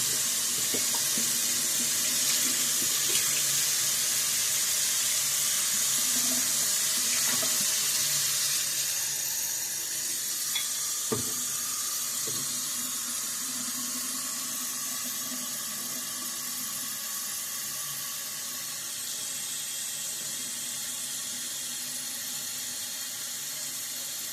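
A tap runs steadily into a sink to fill a bowl for shaving soap, a constant hiss and splash that softens a little midway, with an occasional faint clink and no speech.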